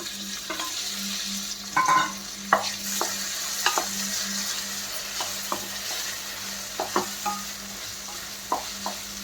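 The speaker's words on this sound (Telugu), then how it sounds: "ఇవి బాగా మగ్గే వరకు అటు ఇటు కలపాలి." Capsicum and tomato pieces fry in a pan for masala pasta, with a steady quiet sizzle broken by repeated spatula scrapes and clacks as they are stirred.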